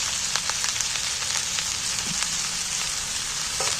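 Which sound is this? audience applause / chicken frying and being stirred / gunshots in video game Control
chicken frying and being stirred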